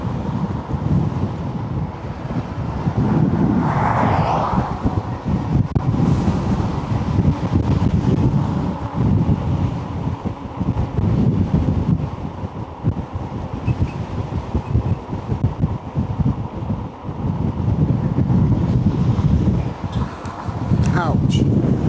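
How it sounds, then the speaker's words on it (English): Strong wind buffeting an outdoor microphone, a loud continuous roar and rumble that fills the whole stretch, with a voice briefly audible under it. "Wind's pretty bad, man."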